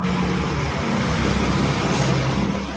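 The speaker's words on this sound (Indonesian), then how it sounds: "Ada suara bus di situ." A large vehicle rumbles past close by, its engine drone loud and steady with a broad roar of road noise, no voices.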